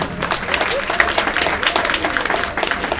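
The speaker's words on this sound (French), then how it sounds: "Et ça s'acclame." Dense, steady applause from an audience at a public gathering in Gagnoa, Ivory Coast. Many hands clap at once with no pauses, filling the whole stretch at a loud, even level.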